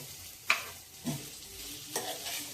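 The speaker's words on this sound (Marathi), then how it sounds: "आता आपण अननस सुद्धा परतून घेतलाय, सुका मेवा पण आपण परतून घेतलाय, बदाम आणि बेदाणे" Pineapple pieces with almonds, almond slivers and raisins roasted in a pan for pineapple sheera, with a soft continuous sizzle and a few spatula stirs and scrapes spaced through it.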